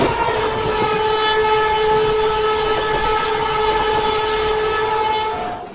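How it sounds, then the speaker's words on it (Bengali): An Indian Railways train pulls out of Durgapur station. A long, sustained horn blares over the rolling rumble and clatter of the carriages, close and loud, then cuts off at the end. "তাই আমাদের ট্রেনের সিগন্যাল হয়ে গেছে, তাই আমাদের ট্রেনটা ছেড়ে দিয়েছে।"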